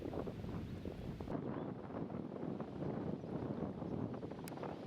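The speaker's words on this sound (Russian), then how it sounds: "Здесь нас встретил сильный встречный ветер" Strong headwind on the Sylva river during a rafting trip, a constant loud roaring rush of wind buffeting the microphone with no pauses.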